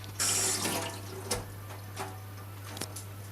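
Tap water runs into a sink while an aubergine is rinsed, a soft close splashing stream that starts abruptly, with a few brief knocks and clatters.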